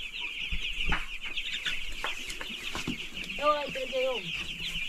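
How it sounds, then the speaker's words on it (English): A crowd of young poultry chicks in a poultry-keeping brooder keeps up a dense, continuous high peeping chorus, with occasional louder clucks and light knocks nearby. "So these are the chicks."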